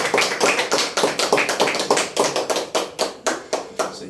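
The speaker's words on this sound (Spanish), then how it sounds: "Den un aplauso a Dios," Church congregation clapping in a rhythmic, steady beat, loud and close, with regular sharp claps repeating about every quarter second throughout.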